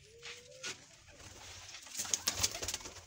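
Soft pigeon cooing, fairly faint, with rustling and scattered clicks and flutters growing busier toward the end.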